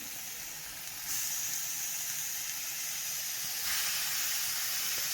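Chicken leg and small cut pieces frying in a pan for chicken sukka, a steady loud sizzle that swells brighter as more pieces go in.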